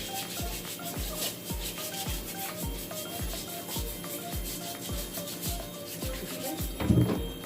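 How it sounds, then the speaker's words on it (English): Potatoes scrubbed with a vegetable brush, close and steady, with brisk regular strokes about twice a second over a faint background hum and a slightly louder scuff near the end. "I'm just washing them properly with my vegetable brush."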